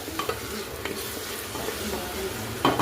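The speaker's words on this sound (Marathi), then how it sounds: "आता मस्त आपल्याला मंद आचेवर फ्राय करून घ्यायचं मस्त त्याला तेल सुटेपर्यंत" Masala paste frying on a low flame, giving a dense, continuous sizzle with soft scraping as it is stirred and a louder stir burst at the close, heard up close.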